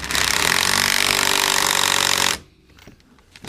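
An impact wrench runs nonstop for a little over two seconds, driving nuts during a rear strut install on a Subaru Outback. The loud, dense rattling hammer cuts off abruptly, leaving quiet shop background.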